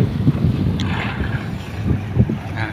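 Boat approaching at sea for a scattering-of-ashes trip off Pak Nam, a low rumbling engine drone with heavy wind buffeting the microphone and some water noise, fairly near.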